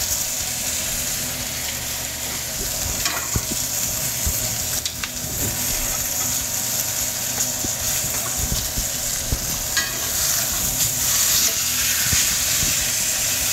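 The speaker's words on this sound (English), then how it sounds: "we're gonna start to get some of these onions in the pan" Onions frying in a pan, a close, loud, steady sizzle and hiss with occasional stirring scrapes, continuous throughout.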